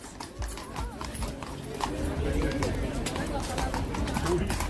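Horse hooves clip-clop on pavement amid a busy tourist crowd outside a royal guard post, steady near hoofbeats mixed with crowd chatter and voices throughout.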